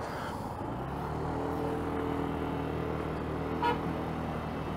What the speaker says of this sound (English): People honking at each other.